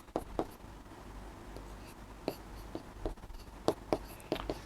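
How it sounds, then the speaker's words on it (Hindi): Pen or pencil writing a maths answer by hand in a classroom setting, short scratchy strokes in irregular bursts, close and fairly quiet over a low background hum. "तो हम लिखेंगे"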